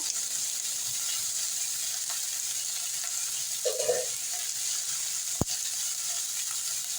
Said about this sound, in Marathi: मी सोप घालते सोप छान अशी परतून घेऊया आपण त्यासोबतच आपण बेसन घालणार आहे